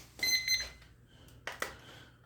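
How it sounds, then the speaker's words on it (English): An alarm beeps in a short burst of bright repeated tones, followed by a couple of sharp knocks in a quiet room. "Goddamn alarm."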